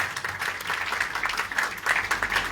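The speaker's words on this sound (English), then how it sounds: "Round of applause." Steady applause from an audience at a book launch, a moderately distant round of many hands clapping evenly for a couple of seconds with no talk over it.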